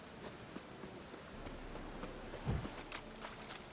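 Steady rain falls in a fantasy video game world, a soft even hiss with occasional faint drops and a brief low rumble midway, quiet and continuous with no voices.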